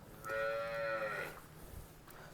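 A single Gir cow of Bhavnagar bloodline gives a short, clear moo, close by, followed by quiet background noise.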